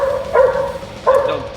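A dog named Charlie barks twice at a running engine, two sharp, close yips about half a second apart over a low background hum.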